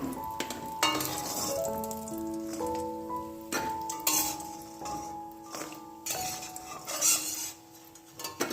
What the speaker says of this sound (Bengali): বেগুন আর আলুটা একটু আগে ভেজে নেব অল্প অল্প একটু ভেজে নিয়ে তারপরে শাকটা দেবো